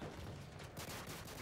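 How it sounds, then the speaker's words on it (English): Rapid volleys of gunfire in a sniper clan video game, dense overlapping shots filling the whole stretch at steady loudness with no talking over them. "Everyone come over to where you hear the pistol shots."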